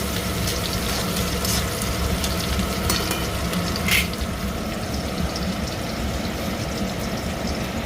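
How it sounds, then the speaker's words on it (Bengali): Onions fry in hot oil with a dense, steady, loud sizzle that holds evenly throughout, broken by one brief clink near the middle, and no one speaking. "পেঁয়াজটা ভালো করে ভেজে নেবো।"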